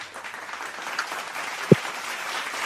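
A small group at an anniversary show claps lightly, a soft scattered patter with one sharp, louder clap standing out near the end.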